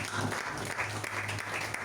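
Applause from a church congregation acclaiming God during a worship service, steady clapping sustained across the whole moment with a low hum beneath.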